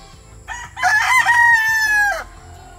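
A game fowl crows loudly and close by on a breeding farm, a single drawn-out call lasting over a second and rising to a sustained tone before cutting off.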